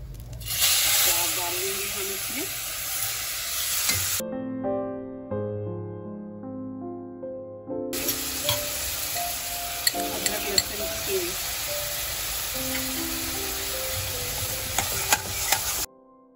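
Spiced masala for chicken curry fries in a pan with a continuous sizzle and hiss plus stirring scrapes, broken by a few seconds of near silence partway through; a voice speaks faintly at times.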